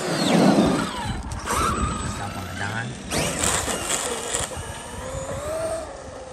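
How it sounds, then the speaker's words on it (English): Traxxas Maxx radio-controlled car racing down a road, its electric motor whining and rising in pitch as it passes, with people talking over it. "All the way down the road, hundreds of feet,"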